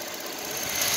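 A 2010 Buick LaCrosse 3.0 V6 idles steadily after a cold start, a close, even hum that carries a faint rise near the end.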